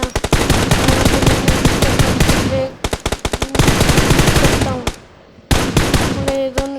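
Rapid automatic gunfire in the mobile battle-royale game PUBG Mobile during a mansion fight, loud and close, with long bursts broken by short pauses and a few single shots.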